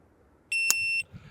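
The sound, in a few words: shot timer beep during a pistol drill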